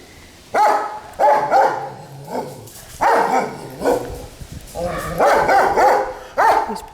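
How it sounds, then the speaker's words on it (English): Dogs bark repeatedly behind a fence at a house on a hillside road, loud, close bursts in an uneven rhythm, some yelping, with no talking over them. "This is the house with the terrifying dogs."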